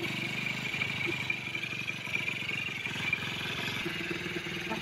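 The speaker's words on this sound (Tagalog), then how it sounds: "So yung mga kanayon, napatakbo na natin ang motor ni Kuya kasama kanyang anak" A motorcycle engine runs at idle with a steady, rapid clattering putter, fairly close and alone, its pulse shifting slightly near the end.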